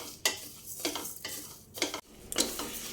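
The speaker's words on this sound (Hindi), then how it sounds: "स्लो फ्लेम पे इसी तरह से हम लगातार इनको चलाते हुए भून लेंगे" Whole spices are dry-roasted over a low flame and stirred continuously in a pan, giving a series of dry scraping, rustling strokes at an uneven rhythm, close and fairly quiet, with no talking.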